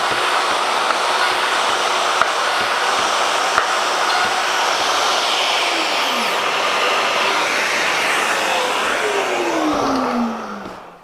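A Festool power tool bores holes through boards for a Sysport storage unit, running as a loud, steady whirring roar for about ten seconds before spinning down at the end.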